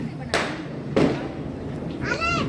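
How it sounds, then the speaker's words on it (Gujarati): Diwali firecrackers burst outside in a street, two sharp separate bangs about half a second apart, followed by a voice calling out. "જો સામે પણ બધા ફટાકડા ફોડે છે."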